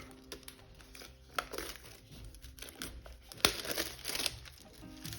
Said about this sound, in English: you need to remove the plastic cover